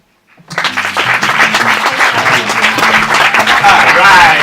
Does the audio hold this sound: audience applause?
yes